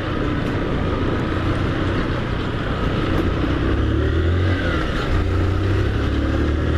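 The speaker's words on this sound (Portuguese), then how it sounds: "Ah, ali já dá pra dar aquela aceleradona pra passar esse caminhão." Motorcycle engine revving hard to overtake a truck on a road, a loud continuous drone with rising pitch near the end under steady wind and traffic noise.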